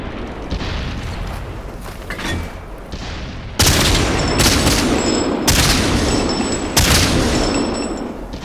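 Repeated loud booming gunfire in the World of Tanks video game, heavy cannon blasts landing in sharp bursts over continuous dense battle noise, with no voices.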